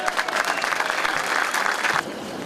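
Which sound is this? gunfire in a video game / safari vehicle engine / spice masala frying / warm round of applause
warm round of applause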